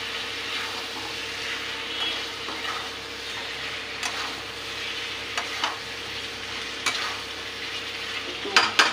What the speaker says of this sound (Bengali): আলুগুলো দিয়ে একটু নাড়াচাড়া করে নেব